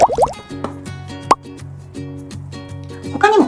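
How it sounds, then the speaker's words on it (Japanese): A rising bubbles sound effect gives bright upward-sweeping plops at the start and end, with a low steady pulsing underneath and occasional small pops between them. "ライジングバブル。"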